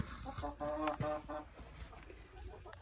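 A hen in a bucket on a small farm gives a short run of close, rhythmic clucks, which then fade into quiet background.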